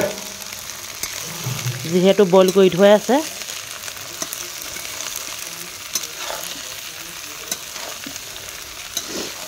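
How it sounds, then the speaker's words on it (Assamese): Young tora (Alpinia) shoots fry in hot oil with garlic for a pickle, giving a steady low sizzle through the whole stretch, while a voice talks loudly near the start. "মাত্ৰ 2-3 মিনিট এনেধৰণে এতিয়া ভাজি দিছোঁ,"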